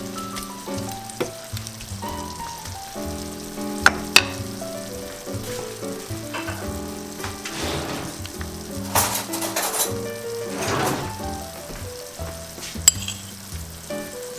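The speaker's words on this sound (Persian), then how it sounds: "سوسیسایی رو که خرد کردم اضافه میکنم به پیاز تا این سوسیس یه تف بخوره" Chopped sausage sizzles with onions in a hot pan, a steady crackling fry with occasional stirring scrapes and a few sharp clinks, close and fairly quiet, no talking.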